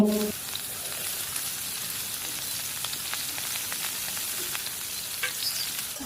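Peeled pointed gourd pieces sizzle steadily in hot mustard oil, a constant close frying hiss with scattered pops and a brief clatter at the start, no voices.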